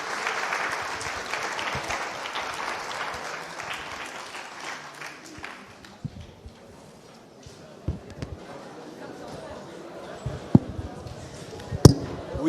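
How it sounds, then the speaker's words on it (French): Audience applause for three guests at the close of a talk on the energy transition, a moderate patter of clapping that thins out, followed by scattered thumps and a voice speaking. "Je voudrais qu'on applaudisse nos 3 invités."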